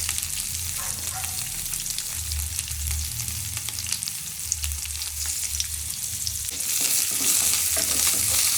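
Curry leaves, green chili and onion fry in hot oil for upma, a steady close sizzle with stirring scrapes throughout and a brighter, louder crackle near the end.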